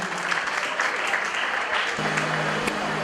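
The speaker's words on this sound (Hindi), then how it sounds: "दोनों शख्सियत के लिए जोरदार ताली बजा दीजिए।" An audience at an award ceremony held by a Maithili community group claps steadily for about three seconds, a dense, close wash of applause. A faint voice or tone runs underneath.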